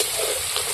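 Chopped onions hit a hot pan over a strongly burning wood stove, giving a steady, close, broadband sizzle with no talk.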